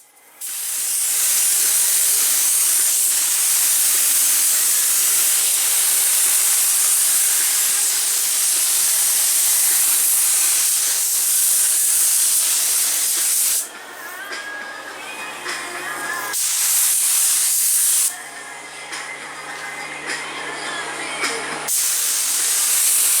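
A loud, steady hiss of a paint spray gun spraying fiberglass door speaker pods runs continuously, cutting out briefly twice before resuming, with no talking.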